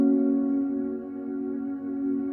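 A sustained piano chord from the worship song Yeshua rings steadily and close, held alone and slowly fading without any talk.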